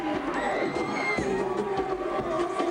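A college cheerleading championship crowd cheers and screams for a pyramid stunt, a dense, excited chorus of high-pitched voices that holds steady from start to finish.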